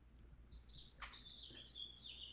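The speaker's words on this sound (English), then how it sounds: "I can hear your birds." Faint birds chirp and tweet in the background of a home video call in Australia. The short, high calls repeat softly over a quiet room hum, with no talking.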